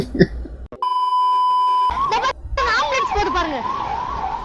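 An ambulance siren: a steady electronic tone held alone for about a second, then a wailing, sweeping siren rising and falling close by for the rest of the clip.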